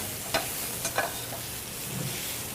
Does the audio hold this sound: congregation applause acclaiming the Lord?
no